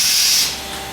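A short, close hiss of liquid being sprayed onto a tire lasts about half a second at a drift event, then fades into a steady background hum.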